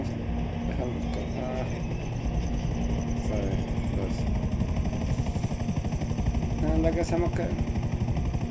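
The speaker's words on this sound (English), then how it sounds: "ask my helicopter to come back." A helicopter arrives in GTA 5 Online during a casino heist prep, its rotor and engine a continuous loud whirring drone with a rapid beating texture, joined by game sound effects and someone talking over it.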